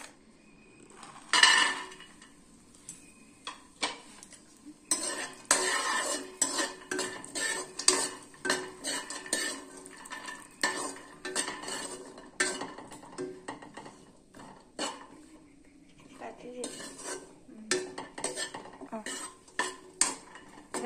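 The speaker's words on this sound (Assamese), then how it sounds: "ঘিউখিনি দি লৈ ইয়াত এতিয়া এইখিনি কাজু ভাজি লওঁ" Quiet sizzling of cashews frying in ghee in a pan under repeated metal spoon scrapes and clinks as they are stirred, a steady irregular rhythm close by.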